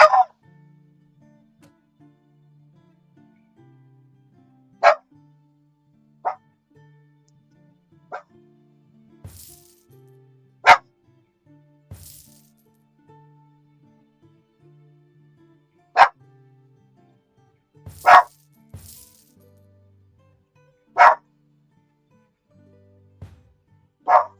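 Scattered single barks from a dog in a blacksmithing shop game, about eight sharp yaps spread irregularly over a quiet low musical hum, each brief and fairly loud.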